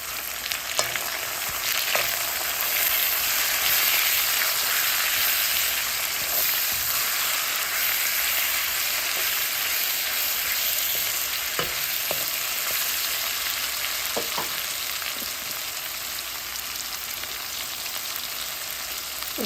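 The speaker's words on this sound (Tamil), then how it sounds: "சின்ன வெங்காயம், பூண்டு போட்டு மீன் குழம்புக்கு வதக்கி கொள்ளுவோம்" Small onions, garlic and cut green mango sizzle steadily in hot oil in a clay pot for a Sri Lankan fish curry, with occasional stirring scrapes over a continuous frying hiss.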